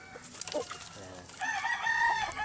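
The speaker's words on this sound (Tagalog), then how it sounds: "Ito yung gray hatch natin mga boss." A gray hatch gamecock rooster crows once, close and loud in the latter half, after brief noises and faint background talking.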